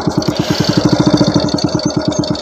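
A motorcycle engine idling close by, carrying a pump, with a steady rapid low chugging pulse that holds even throughout without revving.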